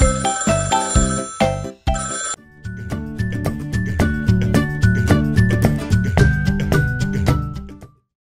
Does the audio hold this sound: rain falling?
no